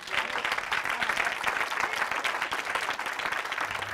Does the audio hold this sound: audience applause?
yes